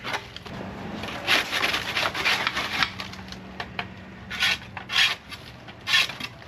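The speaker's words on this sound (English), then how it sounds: "What I like to do is just scrape it down directly into the trash can." A scraper rasps across a pellet grill, scraping debris down into a trash can in a series of gritty, irregular strokes that come close and fairly loud, with a low hum underneath.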